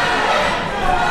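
A wrestling crowd at an RWA Fury event roars and cheers in a steady, dense wall of voices that stays loud the whole time, with no single speaker standing out.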